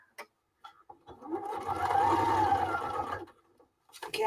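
A sewing machine stitches a fabric bag in one steady motor run of about two seconds, with a few soft clicks before and after, close up and with no talking.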